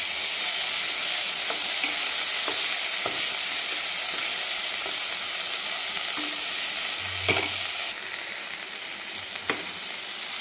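Chopped red country tomato sautés in a kadhai for a spicy egg fry, a loud, dense, steady sizzle filling the whole stretch, with a few soft stirring knocks and a slight drop in intensity near the end.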